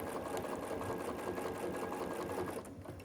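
Sewing machine running steadily and close up, stitching along both sides of a seam on a quilted Christmas stocking, with a continuous motor hum and rapid needle clatter that eases slightly at the very end.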